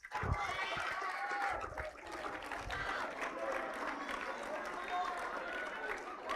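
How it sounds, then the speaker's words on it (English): Audience applause at a charter school outreach event welcoming a guest in an eagle mascot costume, heard as a sustained wash of clapping from a small crowd, with voices and cheering mixed in and no one speaking clearly above it. "Let's give him a round of applause."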